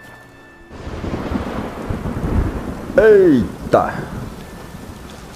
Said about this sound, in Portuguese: A trovoada tá cantando aqui, velho.